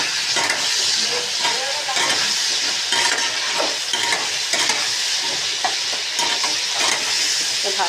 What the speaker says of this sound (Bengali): ভাজাতে থাকি, ঢাকা দিতেই ভাজি।